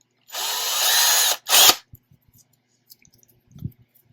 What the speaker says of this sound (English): all you have to do now is take your step drill